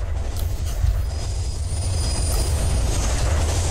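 A train rolls past in the video game Hitman Absolution, a loud, continuous low rumble of wheels on rails with metallic rattle and faint high squeal, steady throughout with no voices.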